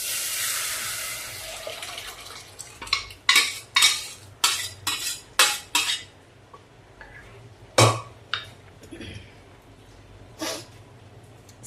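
Ground spice paste poured into a pan and stirred, a wet slide at the start followed by a run of sharp rhythmic utensil scrapes and clanks against the pan, close, then a few scattered knocks.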